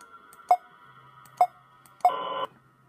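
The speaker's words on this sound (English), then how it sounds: "sensor beep!" A sensor in the video game Five Nights at Spy's gives three short electronic beeps spaced about a second apart. The last beep runs into a longer, harsher buzzing tone over a faint background hum.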